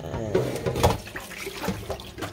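Tap water running steadily while raw chicken thighs are rinsed in a kitchen sink, a continuous moderate splashing flow with small surges, close by and with no voices.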